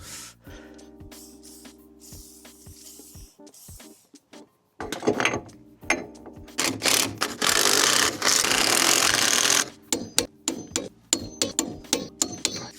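A ratchet wrench tightens bolts on a Mazda MX5 NC during an arch install, its rapid pawl clicking up close, first in sparse ticks and then in long dense runs before short bursts at the end.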